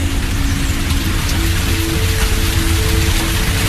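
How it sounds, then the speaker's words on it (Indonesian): Heavy rain falling outside a house, a steady, loud, even hiss of drops on surfaces that runs continuously without pause. "Masih terdengar suara hujan yang cukup deras dari luar rumah."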